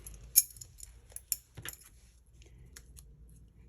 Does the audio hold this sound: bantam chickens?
no